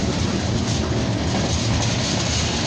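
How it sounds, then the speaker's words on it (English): A long CN freight train rolls past at close range, departing Dorval, a dense, continuous roar of wheels and rail cars with steady rumbling and rattling and no pauses. "A very long train, this is."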